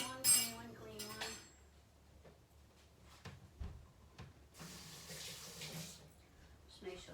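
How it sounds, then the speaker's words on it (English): Metal spoons clink and rattle against each other while being rinsed under running water in a kitchen sink, a bright scatter of close chinks at the start, then softer knocks and a burst of water later. "Gotta rinse off the spoon"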